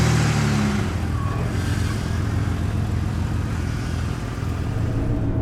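Steady engine rumble of a truck on a test drive after universal joint replacement, constant road and motor noise with no talking.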